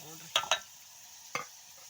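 Food frying in a pan with salt and turmeric, a faint low sizzle broken by three sharp spatula scrapes and taps, close and without speech.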